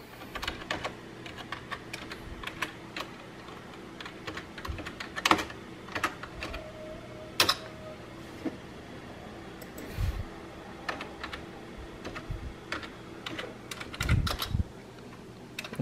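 Typing on a computer keyboard during Windows XP setup: irregular bursts of close, crisp key clicks with scattered louder taps and short pauses between keystrokes, over a faint steady fan-like hum.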